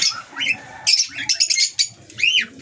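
Wild-type birds in a breeding pen give a quick run of close chirps and squawky calls with rising and falling sweeps, in short bursts broken by brief pauses.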